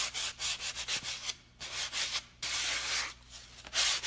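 Fine cloth sandpaper of about 120 grit is rubbed by hand over wood for a DIY serving tray, close and fairly quiet, in quick back-and-forth strokes broken by a few short pauses.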